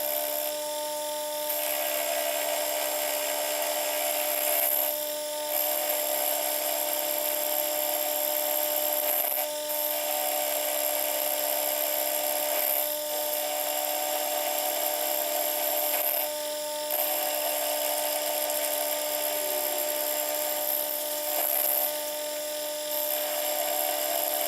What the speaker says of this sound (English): I'm going to go with the 1/8 inch end mill to cut away this section here